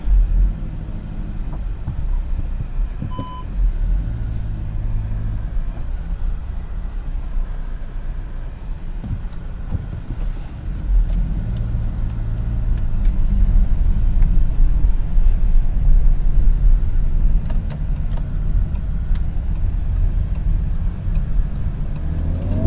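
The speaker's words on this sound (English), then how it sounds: "A little bit of wheel spin. This is a diesel. It's got lots of torque." A 2016 VW Touran with a 2.0 TDI diesel and six-speed manual pulls away under hard acceleration with a little wheel spin, giving a steady low engine rumble that swells louder midway and stays close and continuous.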